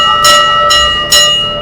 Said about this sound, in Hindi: ये घंटा बजाती हुई जाती थी